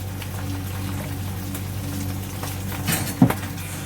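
Cooking oil poured into a pan while making bhindi keema gives a short, soft pour near the end, heard over a steady low kitchen hum.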